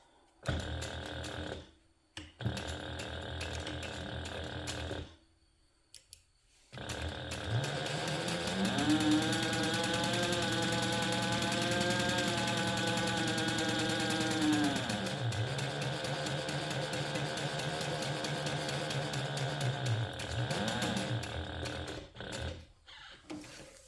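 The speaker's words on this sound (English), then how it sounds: "I'm going to top stitch this using a 1/8 inch seam allowance" A sewing machine top stitches a long fabric edge of a handbag panel with a 1/8 inch seam allowance, a sustained motor hum rising and falling as it runs, with brief pauses and short bursts before and after.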